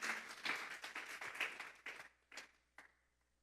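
A church congregation claps together during a Spanish-language sermon: a dense burst of hand claps that thins into a few scattered, fading claps before going quiet. It is fairly soft and has no talk over it.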